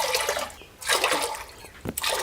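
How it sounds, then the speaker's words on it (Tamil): Water poured into a pot of soaked rice, heard as bursts of splashing and gushing liquid separated by brief pauses, fairly close and with no voices. "இப்போ தண்ணி ஊற்றிக்கலாம்."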